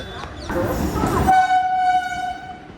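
A diesel train rumbles into a station loudly with clattering and hiss, then a steady horn-like tone holds for over a second as the diesel locomotive pulls alongside.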